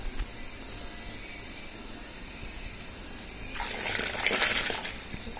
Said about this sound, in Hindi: पानी उबल चुका है, अब इसमें चावल ऐड करेंगे।